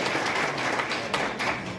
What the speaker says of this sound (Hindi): आदरणीय रमेश जी का एक बार ताली बजाकर स्वागत करें, अभिनंदन करें